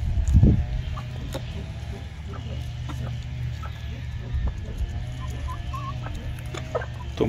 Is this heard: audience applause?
no